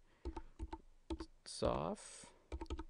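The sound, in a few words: typing on a computer keyboard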